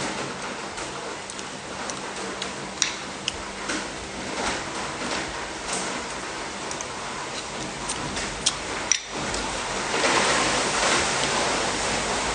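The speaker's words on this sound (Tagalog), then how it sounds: "Grabe, parang ang lalaki ng butil ng ulan na." Heavy downpour of large raindrops hisses continuously, with scattered sharp drip-like ticks and a brief lull before the rain swells louder near the end; nobody speaks.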